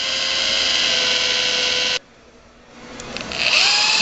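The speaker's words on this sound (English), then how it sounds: "We're just using a standard 3/8 inch variable speed drill with a supplied paddle." A standard 3/8 inch variable speed drill spins a mixing paddle through a thick product, a loud steady whine that cuts off sharply, then spins back up and climbs in pitch, with nobody speaking.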